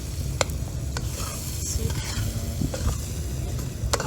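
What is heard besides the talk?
food sizzling and frying in a pan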